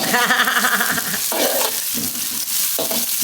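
Crispy rice noodles (mee krob) sizzle and crackle while deep-frying in a hot wok as they are stirred, tossed and pressed down, a busy continuous frying noise.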